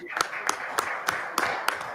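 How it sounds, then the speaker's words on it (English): Audience applause closing a live prostate enucleation surgery session: about six evenly spaced, fairly crisp claps over two seconds, with a steady murmur of background noise. "we can conclude this operation with a big applause to you."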